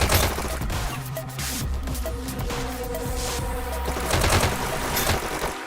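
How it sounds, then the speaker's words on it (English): Gunfire from twin submachine guns in a VR esports shooter match, a dense continuous rattle of rapid shots with layered impacts and game effects that stays loud and steady throughout without pause. "Hodge coming in with the double SMGs."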